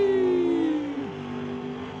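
A 427 COPO factory stock drag car screams down the strip at an NHRA event, a loud high engine note that drops in pitch as it passes and fades away.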